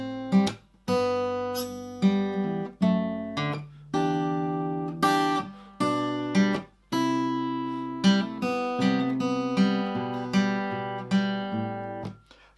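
Acoustic guitar played fingerstyle on a simplified arrangement of a song: plucked notes and chords ring out in a steady flowing rhythm, close and clear, with no voice over them.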